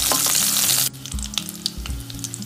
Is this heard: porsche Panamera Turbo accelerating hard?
no